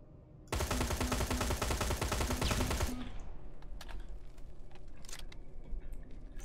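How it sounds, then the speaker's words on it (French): Laser turret in Terminator Resistance fires a loud, rapid burst of repeating shots lasting about two and a half seconds, then falls to quieter clicks and scattered impacts. "Il y a une tourelle. Une saloperie de tourelle laser."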